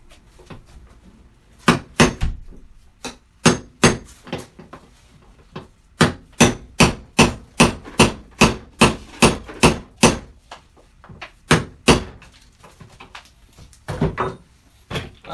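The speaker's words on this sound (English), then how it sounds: "get a hammer for me." Hammer blows drive wheels onto a wooden Mittleider grow box, a series of sharp, loud strikes in uneven bursts, several quick runs of hits separated by short pauses.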